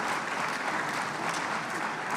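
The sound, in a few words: audience applause for the finalists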